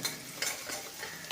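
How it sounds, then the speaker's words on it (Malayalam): Ginger, garlic and curry leaves fry in a pan with a soft, steady sizzle while a utensil stirs and scrapes through them, at low volume and with no voices. "കുറച്ച് കറിവേപ്പില ഇട്ട് പൊള്ളിച്ചതിന് ശേഷം അടുത്ത് കട്ട് ചെയ്ത് വെച്ചിരിക്കുന്ന ഇഞ്ചിയും വെളുത്തുള്ളിയും നമുക്ക് അതിനൊന്ന് നന്നായിട്ടൊന്ന് മൂപ്പിച്ചെടുക്കണം"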